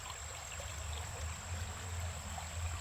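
A creek lined with river birch flows in a steady, soft wash of running water, continuous and even throughout with no voices.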